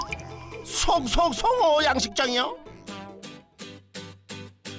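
Water gushes and splashes in trout farm tanks inside a greenhouse. A voice talks over it first, then the water comes through alone as a run of loud, rhythmic splashing bursts.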